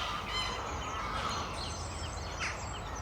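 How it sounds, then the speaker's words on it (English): A noisy chorus of geese honks continuously in spring, many overlapping calls at a moderate distance, with no talking. "it sure is a racket down here in spring with loads of geese nearby"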